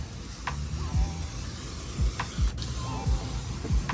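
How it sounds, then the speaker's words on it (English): Liquid sprayed from a trigger bottle onto the bottom of window glass before applying anti-reflective film, heard as several short sharp hissing bursts at irregular intervals over a steady background hum. "Now I'm gonna spray the bottom of my glass"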